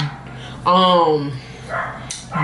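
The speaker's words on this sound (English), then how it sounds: "Y'all hear somebody dog going on?" A dog barks nearby in a short, loud burst of a few yelps with a whining tone, standing out against quiet room sound, with faint human speech before and after.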